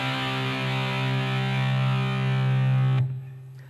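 An electric guitar with heavy distortion plays a fast fill in D Phrygian, loud and sustained, then cuts off abruptly near the end.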